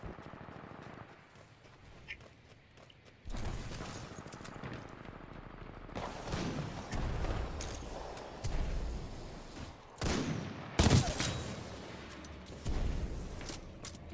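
Hemlock burst rifle fire in a Titanfall-style pilot-versus-pilot shooter match: repeated loud bursts of gunfire in clusters, with a sharp, heavy volley near the end over continuous game noise.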